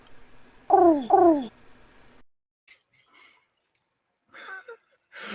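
A person imitating the cooing of pigeons with two quick, throaty warbling coos, fairly close, followed by faint scattered sounds and brief talk near the end.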